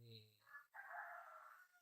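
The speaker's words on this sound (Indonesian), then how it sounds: "Bahkan juga ikut menyaksikan itu bunyi daripada ayam berkotek." A rooster crows at night around 2 a.m., a single drawn-out call, faint and somewhat distant, in an otherwise quiet setting with no talking.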